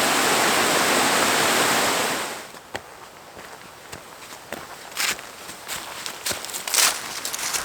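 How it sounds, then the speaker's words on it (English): Holmforce waterfall at Loweswater roars as a loud, broad rush of falling water for about two seconds, then cuts to a quiet outdoor scene with scattered footsteps and small clicks. "here at Loweswater we have the Holmforce waterfall"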